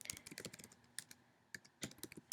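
Quick bursts of typing on a computer keyboard, irregular clusters of light key clicks close by, fairly quiet with short pauses between runs.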